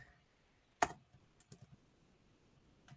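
Close, quiet clicking on a computer keyboard: one sharp key press, then a few lighter taps in a short cluster, with near silence around them.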